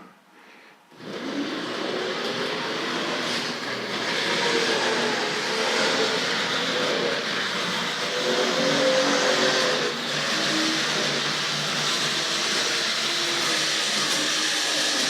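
A Tri-ang Railways RFX suburban electric model train set running through a tunnel, a steady whirring motor and wheel hum that starts abruptly and continues evenly at close range.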